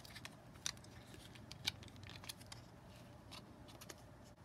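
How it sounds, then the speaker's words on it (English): Scissors snipping through the plastic tube casing of a bullet lube stick for an RCBS Lube-A-Matic 2 sizer-lubricator, two crisp close cuts amid soft crinkling and handling noise. "So you can cut the casing and just peel it off like this."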